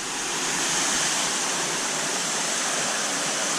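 Water rains from about three to four feet onto a shower tower filter mat packed with pot scrubbers and nylon mesh, making a dense, steady, loud hiss like heavy rainfall, with no breaks.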